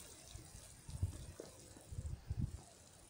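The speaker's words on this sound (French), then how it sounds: "on va donner un petit coup de pouce, bien sûr, en faisant un petit arrosage léger" Lettuce seeds just sown in a garden get a light watering, giving soft splashing and trickling water in a few uneven bursts, close by and fairly quiet.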